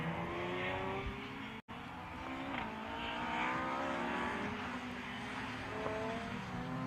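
Modified Ford race cars with V6 engines race at Anglesey circuit, their engines droning and rising and falling in pitch as they pass at a distance, a continuous layered roar with a brief dropout partway through.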